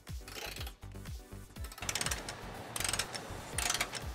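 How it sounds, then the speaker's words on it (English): A hand ratchet with a 13 mm socket clicks rapidly in short runs, tightening trailer hitch bolts on a 2018 Toyota C-HR, close up with bursts of fast metallic pawl ticking and no talk. "So now we're going to torque all eight of our bolts to the vehicle manufacturer specifications."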